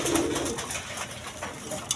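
A pair of high-flying Giribaz pigeons coos in a loft, the soft, low throaty calls repeating over a steady background hiss, fairly close and without voices.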